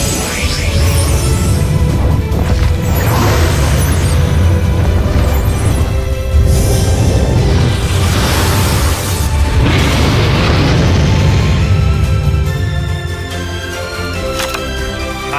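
Blue Eyes White Dragon unleashes its attack in Yu-Gi-Oh! Duel Links, a loud sustained roar of booming explosions and whooshing bursts that swells repeatedly before fading into ringing tones.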